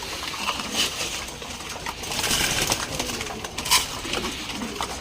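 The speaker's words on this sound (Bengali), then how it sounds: "কবুতরগুলো কতটা মজা করে গ্রিটটা খাচ্ছে" Rapid scattered pecking and clicking of pigeons feeding on grit, with faint cooing in the background and no voices.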